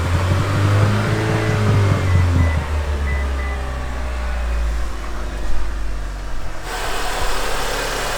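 A Mitsubishi Evo 8 engine fires up from a fairly cold start and settles into a loud, steady idle with a deep low rumble and vibration, heard up close.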